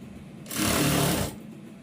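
A sewing machine stitching the side joint of a garment near the arm round, one short whirring run of under a second that starts and stops abruptly, close by and alone.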